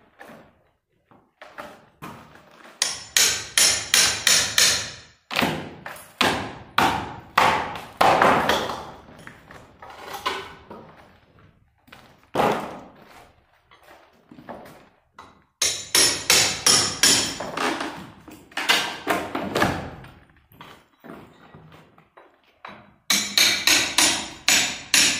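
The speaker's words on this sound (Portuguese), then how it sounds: "com a ajuda de um martelo, uma talhadeira, vamos retirar o madeirite do fundo" Hammer striking a chisel to knock plywood off a staircase with a central beam, with bursts of rapid, loud, close metallic blows broken by short pauses and occasional single heavy thuds, with no talking.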